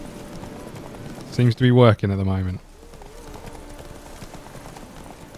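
Hooves clip-clop at a gallop in a steady patter in The Witcher 3: Wild Hunt while someone talks briefly over them.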